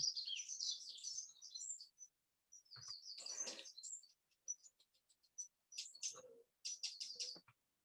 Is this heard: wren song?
yes